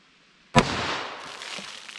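A single sharp gunshot from a .357 Magnum firing Corbon DPX ammunition into a ballistic box outdoors, one loud crack followed by a short decaying echo, no talk.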